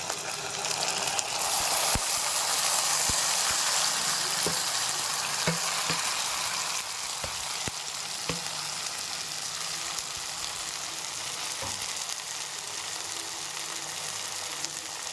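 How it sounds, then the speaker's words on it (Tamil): Tomatoes sizzle steadily in a hot pan, a close, continuous frying hiss broken by a few metallic clinks of stirring. "இப்போ இந்த சட்டியை நம்ம வதக்கி கொடுப்போம்"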